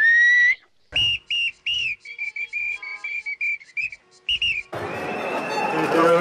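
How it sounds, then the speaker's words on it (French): Several sharp, high whistles ring out one after another in short bursts, some overlapping, before a noisy rush of crowd sound takes over at the end. "simplement tout le monde siffle."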